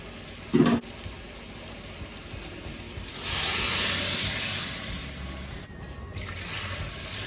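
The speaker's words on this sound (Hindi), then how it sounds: "तो अब जो है वो पानी डालेंगे" Water pours into a cooking pot of roasted goat trotters with a steady rushing hiss lasting a few seconds, after a brief clatter near the start.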